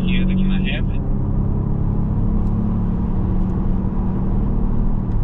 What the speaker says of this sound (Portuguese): É um ronco mais quase que de V8, apesar da gente estar num V6